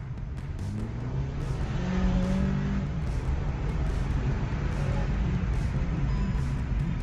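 A Skoda Octavia 1.8 TSI tuned to stage 1 accelerates at full throttle in D mode, its engine droning steadily and loudly from inside the car, with rising tones as it pulls through the revs.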